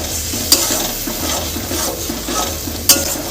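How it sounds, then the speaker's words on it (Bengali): Spice masala fries and is stirred in a pan, a steady sizzle under rhythmic scraping of a spoon, with two sharp metallic clinks against the pan. "মশলাটা ভালো করে কষানো হয়ে গেছে, আরও কষাবো"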